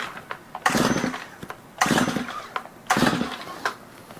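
A Stihl multi tool engine is being pull-started, with the choke on. Three rough, rasping pulls come about a second apart, each cranking burst loud and close, and the engine does not catch.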